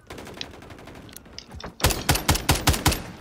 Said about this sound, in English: But it shoots like a submachine gun.